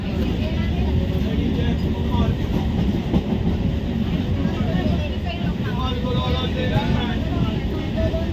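A train rolling into Krishnanagar railway station, a steady rumble and rattle of rail cars with clatter and background voices, loud and continuous throughout.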